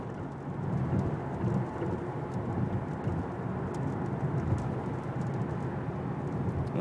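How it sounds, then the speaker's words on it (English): Steady rain patters on a Tesla driving in Minneapolis, heard from inside the cabin as a dense, even wash with low road rumble underneath and no clear breaks. "And if you can't tell, it is raining"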